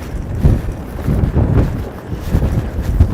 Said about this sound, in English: I didn't realize it was going to be this crazy windy.